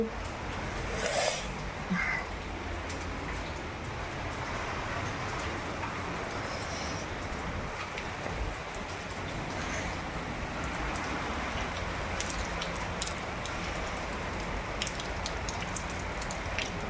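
Steady heavy rain pouring down, a dense continuous wash of drops on surfaces with no pauses, alone and fairly close.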